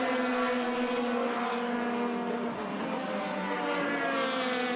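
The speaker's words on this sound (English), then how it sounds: "there's a beautiful sound going by here with all these formula cars, open wheel engines coming by" Open-wheel formula race car engines drone at high pitch in a steady, overlapping whine, moderately distant, with no clear break between passing cars, at Laguna Seca raceway.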